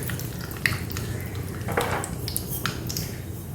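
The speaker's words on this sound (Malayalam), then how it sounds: "ഇനി ഇതിലേക്ക് നമുക്ക് കടുക് പൊട്ടിച്ചൊഴിക്കാം" Mustard seeds crackling and popping in hot oil, scattered small bursts over a steady sizzle, close by with no talking.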